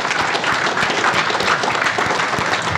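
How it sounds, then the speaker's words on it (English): A conference crowd at a startup founders event claps steadily, a loud dense burst of many hands that fills the whole stretch. "So can we give her a round of applause really quick?"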